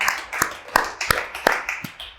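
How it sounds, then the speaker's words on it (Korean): A handful of separate hand claps ring out sparsely from a small audience welcoming a guest, a former Viacom vice president, onto a talk show; the claps are close and irregular rather than a full ovation. "박수 한번 주시죠"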